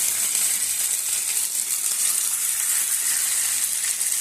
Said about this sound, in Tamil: நம்ம மிக்ஸ் பண்ணி வச்ச சிக்கனை நம்ம அதில் போட்டு நல்லா டீப் ஃப்ரை பண்ணுவோம்